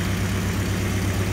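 A small black rag-top car idles with its air conditioning running, using a piston AC compressor converted to R134. It makes a loud, steady low droning hum close by, with no one speaking.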